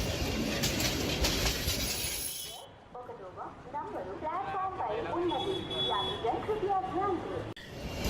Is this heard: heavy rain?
no